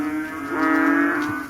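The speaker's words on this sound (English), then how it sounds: "Top 3, the frog." A frog gives one long, low, droning call that swells in the middle, close and fairly loud, with no other sounds around it.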